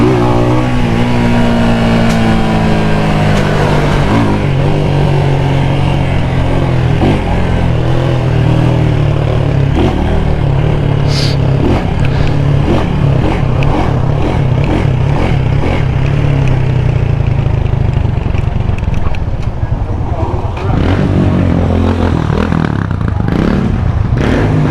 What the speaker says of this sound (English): I try to rev it up.